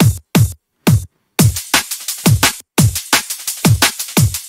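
Punchy kick-driven drum-and-bass loop with a top loop layered over it plays up close, starting sparse, then filling in with faster percussion on top in a steady groove.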